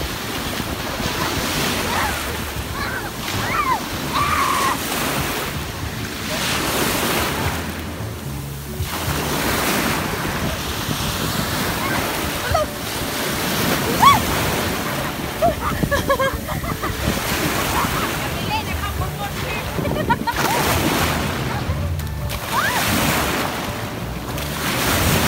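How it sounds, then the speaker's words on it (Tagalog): Sea waves wash steadily onto a beach under gusty wind that buffets the microphone, a loud continuous roar with surges and no clear talk. "Because this is not a river anymore. It's a"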